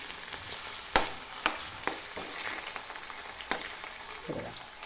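Potato pieces fry in a pan with a steady, soft sizzle, broken by a few sharp clinks and scrapes of a spoon stirring; no one speaks.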